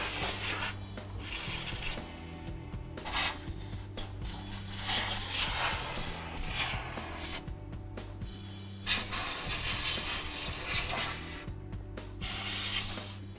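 Compressed air sprayed in repeated hissing bursts into a dusty PC case around the fans, each blast several seconds long with short pauses between, fairly close and steady.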